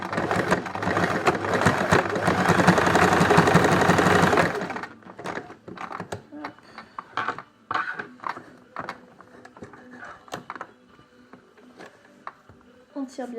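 Sewing machine running steadily for about four seconds while stitching a fabric face mask, a loud continuous mechanical whir that stops abruptly, followed by scattered handling clicks and light rustling.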